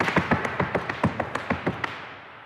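Irish dance heels striking a hard floor, a short burst of around a dozen crisp, close taps in an uneven, syncopated rhythm, heard alone.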